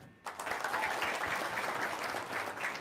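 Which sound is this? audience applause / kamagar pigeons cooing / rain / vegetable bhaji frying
audience applause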